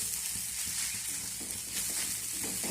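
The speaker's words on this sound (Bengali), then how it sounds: "ডিমটাকে আমি এইভাবে ভেজে নেব।" Eggs frying together with mixed vegetables in a pan give a steady, close sizzle with faint stirring scrapes throughout, no voices.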